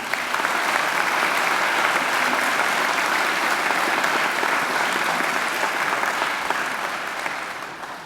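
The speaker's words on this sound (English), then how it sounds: "They deserve a great round of applause too." Sustained, loud applause from a large audience at a university graduation ceremony, a dense unbroken wash that fades slightly toward the end.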